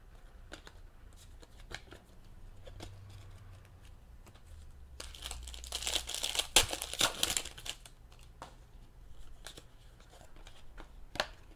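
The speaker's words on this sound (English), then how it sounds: "I'm trying to open up these packs a little more carefully because there's not too many cards in there." Hands carefully open 2014 Panini Elite football card packs: soft foil wrappers crinkle and tear, with a louder burst of crumpling in the middle and light card shuffling around it.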